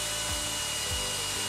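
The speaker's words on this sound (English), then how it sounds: "Mix it with an electric drill." An electric drill mixing two-part epoxy floor coating in a tub: a continuous, steady motor whir with slight pitch wobbles, close and alone without talk.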